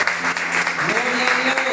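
Congregation clapping in a church, a dense steady wash of applause filling the space, with a voice or tones audible underneath throughout.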